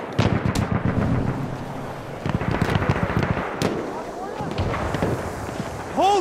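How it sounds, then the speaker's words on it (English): A grenade explodes amid a Battlefield 1 firefight, one of several loud booming bursts and rattling gunfire crowding a noisy battlefield mix, with shouting voices underneath. "Throw a grenade!"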